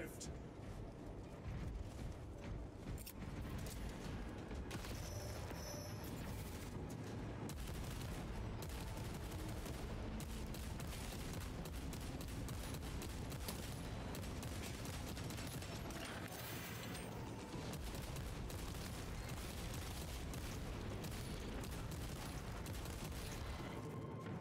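Dense, continuous gunfire and booming grenade explosions fill the battle in the video game Space Marine 2. The sound is loud and unrelenting, with overlapping bursts and blasts throughout and a voice talking underneath.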